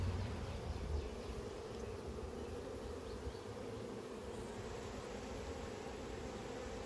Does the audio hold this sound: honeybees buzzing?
yes